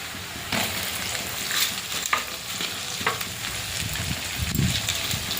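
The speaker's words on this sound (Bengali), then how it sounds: "পেঁয়াজটা ভালো করে ভাজা ভাজা করে নেব।" Onion sizzles in hot oil in a wok alongside garlic, dried chillies and bay leaf, a constant crackling hiss close by with scattered clicks and scrapes from stirring, and nobody speaking.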